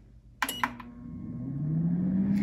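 A countertop air fryer set to 350 degrees Fahrenheit, cooking chakodi rings, starts with a couple of clicks and then settles into a steady, rising motor hum that fills the rest of the moment.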